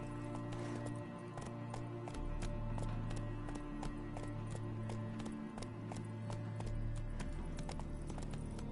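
Roach the horse gallops in Witcher 3, a fast, steady clip-clop of hooves close by over a low droning music bed, with a short snatch of voice partway through.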